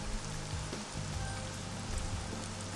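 Steady rain hiss in the pirate sailing game Sea Dogs 2, a continuous, even wash of falling drops with low rumbling ambience beneath and no talking.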